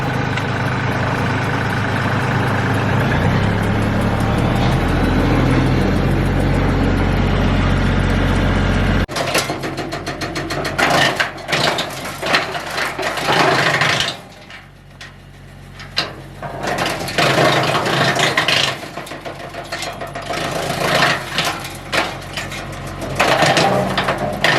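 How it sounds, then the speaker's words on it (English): Tractor-driven wood chipper running steadily and loudly, chipping cherry wood, with a dense mechanical drone that shifts into choppy bursts and brief dips as pieces feed through. "Let's get the chipper going, and let's make us some cherry barbecue chips."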